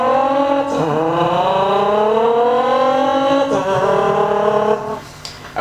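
A human voice imitates a revving car engine, with a buzzing tone that climbs in pitch, drops sharply at each gear shift and then climbs again, loud and close with no other sounds.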